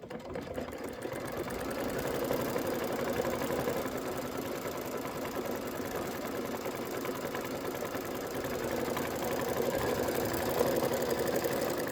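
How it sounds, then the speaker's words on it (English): A sewing machine runs continuously, stitching a tack-down on a candy corn quilt appliqué, a fast even mechanical whir with rapid needle ticking that holds steady throughout. "now we're going to go ahead and stitch our tack down"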